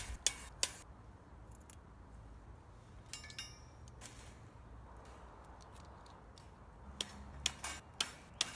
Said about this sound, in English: to start I cut some galvanized steel wire to size